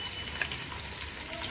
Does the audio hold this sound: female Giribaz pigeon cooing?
no